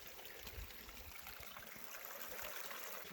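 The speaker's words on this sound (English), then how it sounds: "What a relaxing little gurgling sound. Crystal clear mountain water" A small clear mountain stream gurgles and trickles steadily along a trail, a soft, even wash of running water heard alone at low level.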